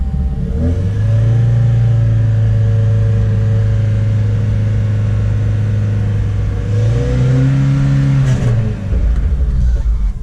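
A Volvo car engine with its check engine light on runs steadily with a low, rough, chuffing drone, rising briefly near the end as if revving, loud and close with no talking.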